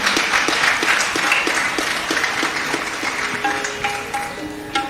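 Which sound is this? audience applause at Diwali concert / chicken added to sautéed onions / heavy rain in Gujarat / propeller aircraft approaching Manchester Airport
audience applause at Diwali concert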